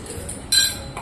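Small toy pots and bowls clink together as children play, one bright metallic chink followed by a fainter touch.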